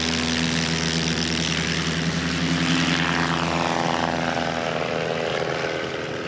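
At a STOL competition, a short-takeoff airplane's propeller engine roars at full throttle for takeoff, a loud sustained drone with a shifting pitch sweep as it passes and begins to recede.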